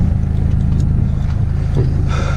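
A slammed Mercedes W123 diesel engine idles while warming up, a steady, loud, low rumbling clatter heard from close by, with a faint higher whine creeping in near the end.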